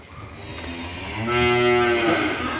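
Cow on a Vietnamese cattle farm giving a single long moo that rises into a loud, drawn-out call, heard close over faint background noise.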